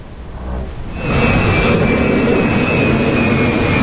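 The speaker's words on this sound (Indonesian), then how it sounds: "Pesawat tanker pengisi bahan bakar Amerika Serikat telah tiba di Bandara Ben Gurion, Israel." A large US military refuelling tanker aircraft at Ben Gurion airport, Israel, produces a loud, steady jet roar that swells after a second and holds, with a thin high engine whine running through it.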